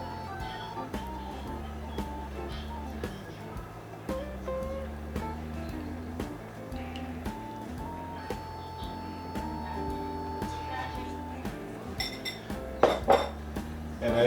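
Chimichurri sauce is spooned over a cooked prime strip steak, giving soft, scattered clinks and scrapes of a utensil against a plate over a faint, steady background hum.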